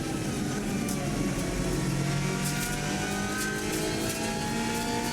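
A car engine on an Isle of Man TT lap, climbing the mountain road through a fast-shifting six-speed gearbox, revs hard and steadily in a continuous loud drone, the pitch rising and falling as each gear comes in.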